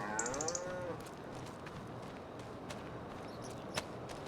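Angus cows in Farming Simulator 25 moo, one long low call near the start over a steady rural ambience with faint insect hum, followed by soft scattered thumps.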